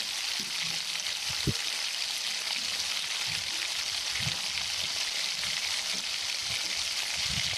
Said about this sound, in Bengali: জল দিয়ে ভালো মতো মশলাটাকে আরও কিছুক্ষণ কষিয়ে নেবো।